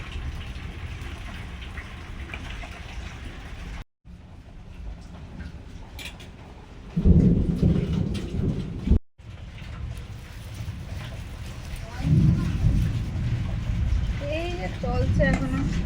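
Heavy rain pours down steadily, with louder bursts of downpour partway through and near the end; a low rumble may be thunder, and voices talk over it.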